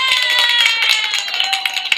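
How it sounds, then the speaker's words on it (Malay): An audience applauds together at a talk, steady dense clapping with a tonal hum or music underneath, continuing throughout. "Okey, kita tepuk."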